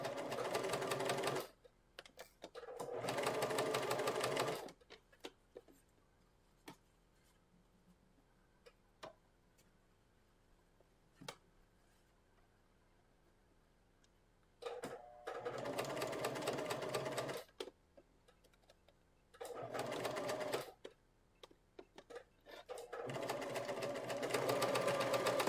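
A sewing machine stitching a lined yoke for a western blouse runs in several short bursts of rapid, even mechanical chatter, with near-silent pauses and faint ticks between, close and otherwise quiet.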